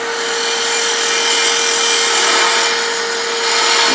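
Beading tool cutting into wood on a lathe while turning a chess piece, a steady close scraping hiss over the constant whine of the spinning lathe, continuous and loud with no talk.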